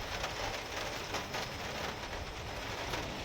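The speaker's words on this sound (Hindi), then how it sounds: "हल्का हल्का वर्षा हो" Light rain falls on a surface as a soft, continuous patter with scattered drop taps, faint and steady throughout, with no voices.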